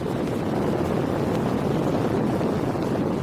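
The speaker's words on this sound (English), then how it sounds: "This is the noise produced by the LEM's ascent engine during a ground test." An Apollo LEM ascent engine runs during a ground test with a continuous, dense roaring hiss at a steady level, loud and unbroken. No voices are heard.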